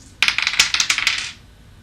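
Dice are rolled in the Euphoria board game, a loud, close burst of rapid hard clatters and rattles tumbling for about a second before settling, with no talk.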